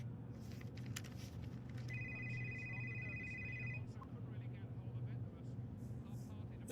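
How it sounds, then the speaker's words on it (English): A telephone rings once in a steady electronic trill for about two seconds, set over a low background hum in a Nigerian true-crime drama scene. "when his phone rings"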